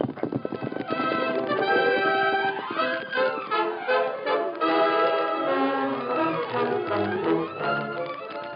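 Horse hooves clip-clop at a gallop as a radio drama sound effect during a Western chase, a steady loud rhythm with swelling orchestral music throughout.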